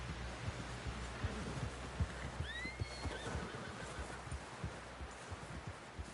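Horse neighing in Red Dead Redemption 2, a clear rising whinny partway through over a low rumble of muffled hoof thuds and background ambience at a camp, with no speech.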